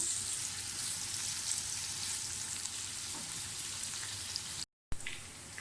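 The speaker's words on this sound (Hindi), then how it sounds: "प्याज को ज़रा अच्छी तरह से फ्राई कर लें।" Steady crackling sizzle of onions frying in a pan for a phaliyan green bean dish, a dense hiss with small pops, close, briefly cutting out near the end.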